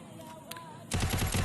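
Gunfire in the video game Free Fire, a sudden burst of rapid shots that starts near the end after a quiet stretch.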